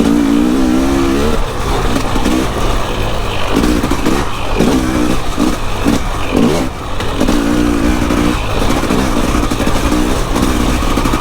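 An enduro motorcycle engine labours in third gear through a slippery, rain-soaked track, loud and close, its steady drone rising and dipping in pitch as the throttle is worked.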